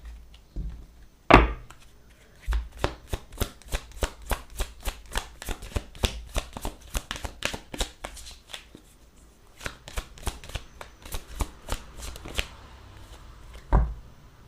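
Tarot cards are shuffled and drawn, producing a long run of rapid, crisp riffling flicks up close, with a few heavier taps at the start and near the end.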